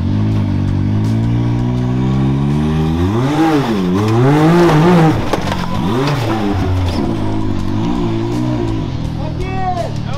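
Can-Am off-road vehicle revving hard while climbing a big rock obstacle at King of the Hammers, the engine surging and dropping in pitch over a few seconds, loud and close, with someone talking over it.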